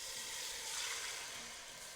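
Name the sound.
salsa frying in oil in a pot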